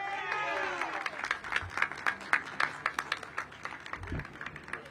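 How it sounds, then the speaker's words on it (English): An audience at the grand opening of Good Food Markets in Ward 8 gives a modest round of applause. A voice is briefly heard at the start, then distinct nearby claps patter unevenly and thin out toward the end. "Let's give him another round of applause."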